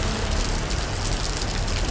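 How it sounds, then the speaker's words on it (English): Heavy rain pours onto a street in Hanoi, a dense, continuous hiss and patter that sounds loud and close, with no voices. "This is the raining now today, heavy raining."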